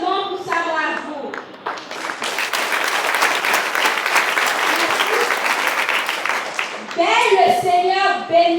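Audience at a children's day celebration breaking into sustained, dense applause that swells and holds for several seconds, with a voice speaking over a PA before and after it.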